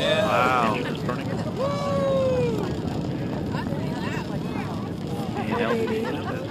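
A deep, steady rocket engine roar at the February 2013 launch of the Landsat Data Continuity Mission fills the whole clip, rumbling and distant, with excited voices talking over it.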